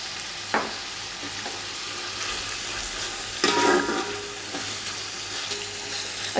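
Chicken cubes in fried rice in a pan, giving off a steady, loud sizzle with a few scraping stirs and clanks of the utensil, up close and with no talk.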